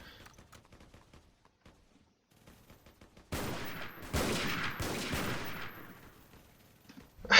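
Gunfire in a Western European War battle on a multiplayer war video game server, bursts of rifle and machine-gun fire starting midway after quieter scattered shots, sustained and fairly loud with no talk.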